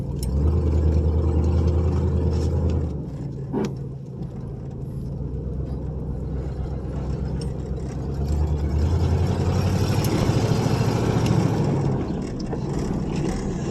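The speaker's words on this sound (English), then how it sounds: "This thing's got the 350 Oldsmobile V8 in it." A 1977 Buick LeSabre with a 350 Oldsmobile V8 idles steadily, a low continuous rumble with slight shifts in pitch and no talking.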